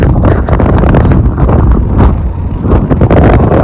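Strong wind buffeting and roaring against a microphone while riding a TVS Apache 160 motorcycle near Pangong Lake, a constant loud rumble with gusty surges, with the motorcycle engine running underneath.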